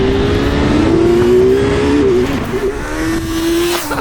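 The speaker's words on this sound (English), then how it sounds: "experience this familiar inline-4 948cc engine which we have come to love" A Kawasaki Z900 motorcycle with its 948cc inline-4 engine revs loudly and steadily up through the range, with a rising then settling engine note that holds close and strong, with no talking.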